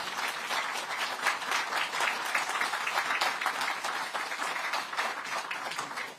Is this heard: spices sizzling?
no